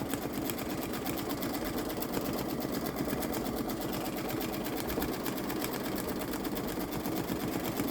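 Babylock Solaris Vision embroidery machine stitching an edge-to-edge bag project, a continuous fast mechanical needle chatter with a steady rhythmic clatter, close and even throughout, without speech.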